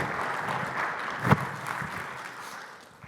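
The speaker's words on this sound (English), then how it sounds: "let's give a big round of applause for this venue and incredible staff at Hard Rock" An audience at a conference venue in a Hard Rock hall gives applause, a dense patter of clapping that starts full and gradually fades over a few seconds.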